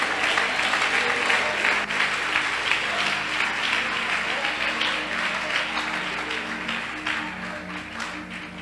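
A church congregation applauds loudly and continuously, a dense wash of clapping that stays steady and slowly eases toward the end.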